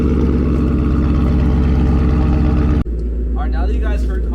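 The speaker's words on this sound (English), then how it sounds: "now that you guys heard Connor's car start up" A Ford Mustang GT with aftermarket exhaust rumbles loudly and steadily at close range, then cuts off abruptly, followed by a quieter low drone with a voice speaking over it.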